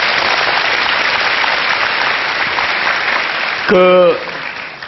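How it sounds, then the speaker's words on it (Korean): Audience applause welcoming a guest in a lecture hall, a soft, steady patter of clapping from the crowd that continues evenly, then a brief spoken syllable near the end as the applause fades. "박수를 좀 환영해 주십시오"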